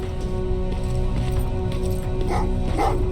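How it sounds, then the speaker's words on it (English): Dogs bark in the Terminator Resistance video game, two or three brief barks sounding faint and distant under a steady low game hum. "Oh, what's with the dogs?"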